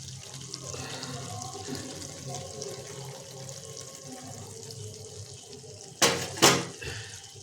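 Water poured into a simmering soybean masala curry gravy in a kadai lands in two short, loud splashing gushes after a stretch of quiet cooking sizzle.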